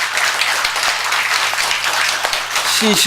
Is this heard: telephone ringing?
no